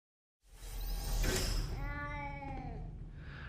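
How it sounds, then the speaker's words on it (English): A single cat meows once, a long drawn-out call that rises and then fades, clear and close against a quiet background with no talking. "I heard a sound from a cat"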